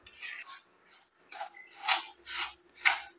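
Semolina stirred in a kadai over a low gas flame for suji barfi, heard as about five rhythmic rasping scrapes of the spoon against the pan, near and fairly soft, with no talk.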